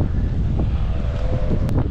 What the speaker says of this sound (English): Geez, windy.